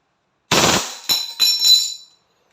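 WE 2011 Hi-Capa T-Rex airsoft pistol on full automatic, a sharp first burst followed by three quick clattering bursts of snappy shots, close and loud in otherwise silence.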